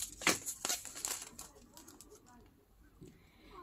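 Newspaper sheets torn and crumpled by hand, with a few sharp close rips and crinkles at the start, then softer rustling.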